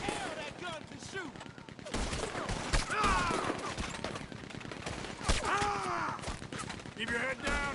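Gatling gun fire in the video game Red Dead Redemption 2: dense, loud, continuous bursts of rapid shots run throughout, mixed with other battle noise and shouting voices.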